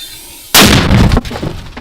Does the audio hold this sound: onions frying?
no